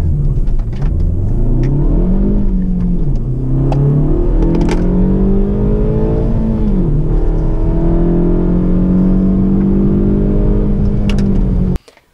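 A Kia Ceed GT accelerates hard from a standstill toward 100 km/h, its engine revving up loudly through several gear changes with rising, dipping whines before cutting off abruptly at the end.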